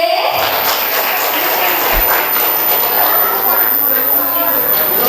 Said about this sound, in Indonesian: Boleh ayah bunda beri tepuk tangan sekali lagi yang meriah untuk kelompok B